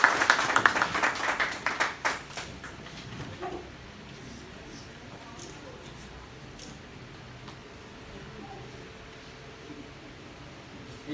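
Audience clapping at a media event welcoming a journalist to the stage, a short burst of applause in the first two seconds that quickly dies away, leaving quiet room noise.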